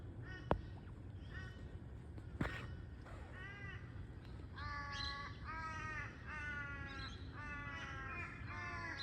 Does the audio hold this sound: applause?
no